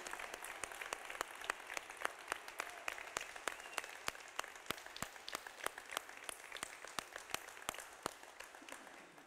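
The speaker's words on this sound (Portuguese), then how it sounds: "Vamos dar uma salva de palmas para Jesus" An audience claps in sustained applause, with many sharp, distinct claps rising over a soft, continuous bed of clapping for the whole stretch.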